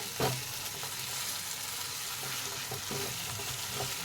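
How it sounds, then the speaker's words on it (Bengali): Spices for doi katla fry in a pan over a low gas flame, giving a steady soft sizzle with occasional stirring scrapes, close and continuous, no voices. "আবার আমি সব মশলাগুলোকে ভালো করে ভেজে নেব।"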